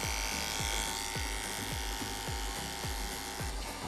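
An Andis electric hair clipper buzzes steadily and close during a fade haircut with a clipper comb, its drone broken by a regular rhythm of short strokes through the hair.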